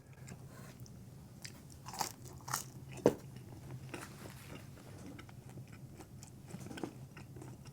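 Someone bites and chews Papa John's NY style pizza dipped in garlic sauce, producing a few soft, close crunches and quiet chewing sounds against a low background hum, with no talk.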